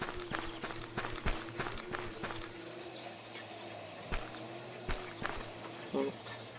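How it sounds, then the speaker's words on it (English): Player footsteps in a video game, a quick run of regular steps that thins to a few scattered, sharper steps, heard over a faint steady hum. "You can hear the player footsteps."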